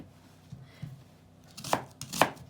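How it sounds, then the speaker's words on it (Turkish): A knife chops an onion on a cutting board in a few sharp, separate strokes, the last two loudest, with no talking. "Soğanımızı küçük yemeklik doğrayacağım."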